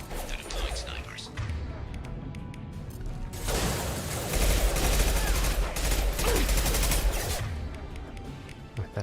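Gunfire in the video game Mass Effect 2, during a firefight with mercenaries on Omega: a dense, loud stretch of rapid shots and mechanical clanks builds over a quieter start.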